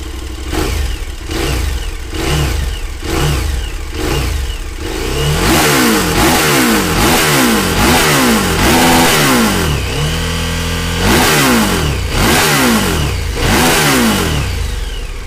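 A KTM Super Adventure 1290 motorcycle's 1,300 cc LC8 engine revs repeatedly, climbing and falling in pitch through a series of throttle blips, loud and close, with no talking.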